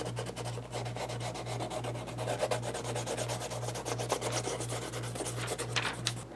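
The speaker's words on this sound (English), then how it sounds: "after you finish sanding the area that you're going to be painting" Sandpaper rubs back and forth on a leather shoe before painting, fast steady scratchy strokes close up, with a regular low hum pulsing underneath throughout.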